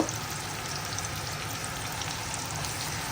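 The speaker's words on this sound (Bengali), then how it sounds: "এখন আমি তেলের মধ্যে পেঁয়াজটা দিয়ে লবণ দিয়ে নিচ্ছি আমি ভালো মতন এখন পেঁয়াজটাকে ভেজে নিব" Onions with salt frying in hot oil in a pan for a hilsa and kochu mukhi fish curry, a steady close sizzle and crackle throughout with no talking.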